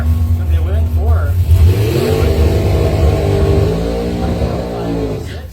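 Dragsters accelerate away at a bracket drag race, their engines roaring loudly and rising in pitch as they run down the strip, with an announcer's voice heard over the sustained, powerful drone.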